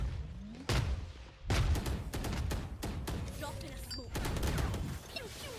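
Gunfire in the video game Valorant: a series of sharp, loud shots, some spaced apart and some in quick bursts, with faint game effects between them.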